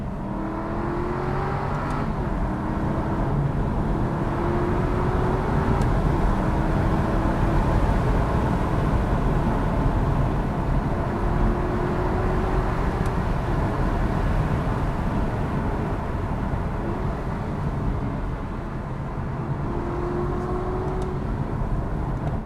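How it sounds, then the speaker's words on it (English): A steady Aston Martin V8 Vantage Roadster engine drone runs throughout with rising whine sweeps as the car cruises and drops a gear, a continuous exhaust note heard from inside. "You want to hear the exhaust note. So let's drop a gear."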